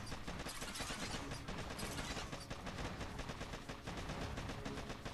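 Machine gun fire in a video game, a rapid continuous mechanical rattle of shots that runs without a break through the whole stretch, dense but fairly faint.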